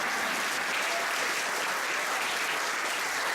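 Steady, sustained applause from an audience after a talk, broadband clapping filling the whole stretch at an even, fairly loud level.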